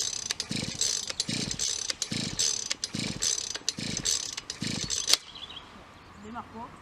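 Six rhythmic pull-starts of a brush cutter's starter cord, a cold engine that refuses to start, each a whirring ratchet rasp with a clunk, close and alone, followed by quieter handling.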